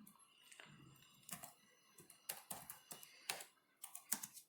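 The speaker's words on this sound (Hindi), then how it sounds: "यहाँ पे मैं टाइप करता हूँ" Typing on a computer keyboard while entering a ledger name in accounting software, a steady run of close, fairly soft key taps with irregular rhythm and brief pauses.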